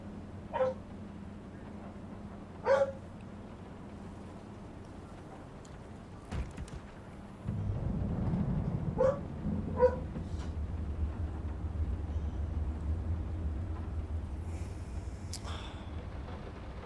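A dog barks a few times from another room, short, spaced-out yaps heard faintly behind a steady hum.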